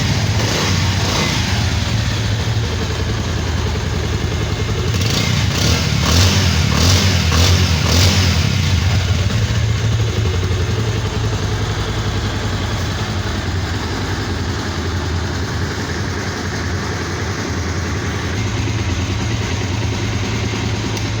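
A Bajaj Avenger 160 cc motorcycle from 2022 idles with a steady low engine note, then revs up in several sharp throttle blips before settling back to a rumbling idle; loud and close, with no voices.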